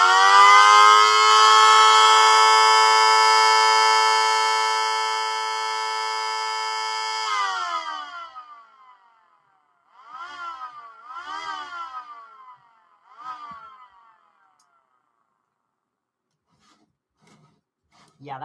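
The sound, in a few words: 3D-printed mini siren Model 2T sounding and winding down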